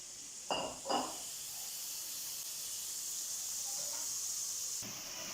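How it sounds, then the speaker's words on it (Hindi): Vegetables fry in a pan, giving a steady, soft hiss of oil and steam, with two brief clanks near the start and no voices. "ये देखिए नहीं बस साथ साथ हम इसको भी देखते जाएंगे, इसलिए हमारी सब्जियाँ भी फ्राई हो रही हैं।"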